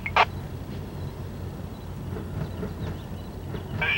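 An Amtrak passenger train rolls through Niles, California, a steady low rumble and clatter of wheels on rails, fairly close, with a brief high squeal near the start and again at the end.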